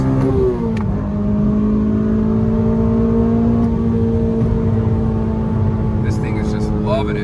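A 2008 Honda Civic Si with a swapped K24 engine drones with a loud, steady engine tone while driving, its pitch holding level under road noise, with a few faint clicks near the end.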